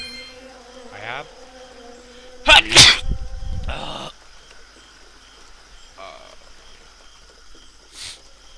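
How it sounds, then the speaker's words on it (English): A single sharp human sneeze bursts out loud and close, set against faint insect-like buzzing ambience from a game, with a brief vocal sound before it. "I feel like I'm gonna sneeze."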